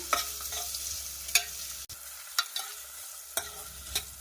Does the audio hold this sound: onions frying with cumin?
yes